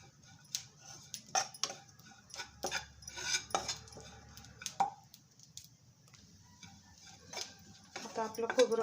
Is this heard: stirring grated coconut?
yes